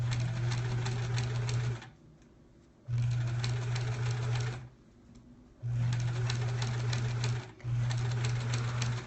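A sewing machine stitches in steady bursts with a low motor hum and rapid needle rattle, stopping briefly between runs; no talking.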